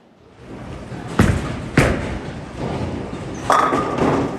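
Bowling ball, a Jackal Legacy, rolling down an oiled lane into the pins: a few separate loud thumps and clatters over a low rolling rumble, with a final burst of pin noise near the end, no talk.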